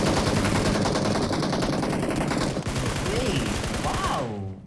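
Rapid close-range gunfire from an esports video game match, dense bursts trading back and forth, loud and sustained under Tamil commentary that fades near the end.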